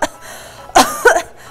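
A few harsh coughs ring out close by, a short one followed after a pause by a louder pair, with no talking.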